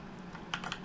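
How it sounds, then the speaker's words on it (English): Brief, quiet patter of a few keystrokes on a computer keyboard over a low steady room hum. "You want to type in Oculus"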